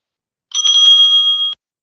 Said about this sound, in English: The timekeeper will ring the bell once at the second minute as a last-minute warning